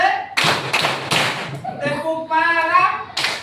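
Children clap in a rhythmic classroom hand game at an elementary school, several sharp claps in quick succession up front, then a voice over quieter taps, and one more clap at the end.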